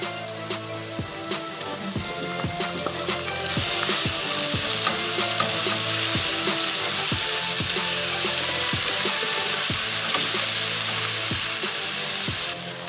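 Garlic salt, turmeric and pepper simmering and frying in a pan, a steady loud sizzle with repeated sharp stirring scrapes and clicks that grows brighter and hissier partway through.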